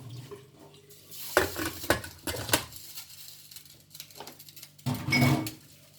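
Black chickpea curry (kalay chanay ka salan) is stirred and roasted in a pot, giving intermittent clattering scrapes and knocks of a spoon against the pot in a few bursts, nearby and without speech.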